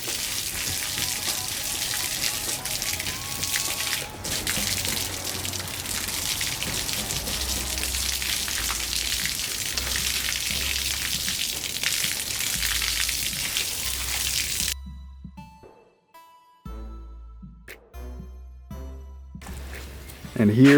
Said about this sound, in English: the last thing you want to do is just wash the whole thing down with water